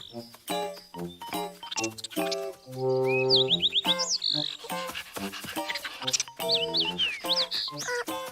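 A little cartoon bird chirps in bright rising and falling tweets, scattered among animated sound effects and short cartoon voices.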